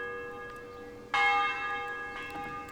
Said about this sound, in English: The morning bells are ringing.